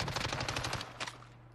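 Rapid automatic gunfire in a shooter video game, a fast, loud burst of repeated shots that stops abruptly, followed by one more short crack and a fading tail.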